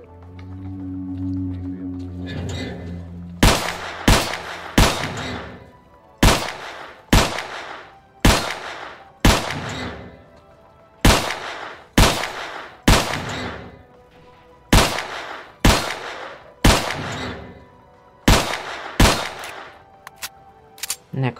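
Gunfire at shooting practice in the video game S.T.A.L.K.E.R. Clear Sky, about fifteen sharp single shots at a steady one-per-second pace with short echoing tails, loud and near, after a brief hum at the start.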